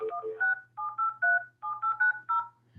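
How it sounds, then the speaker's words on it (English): Office telephone keypad dialing an outside line then a phone number: a quick run of about a dozen clear two-tone beeps in short bursts, close and clean over a faint low hum. "I just hit 9 to dial an outside line and then put in a phone number."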